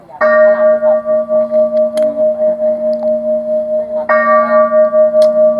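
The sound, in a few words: temple bell ringing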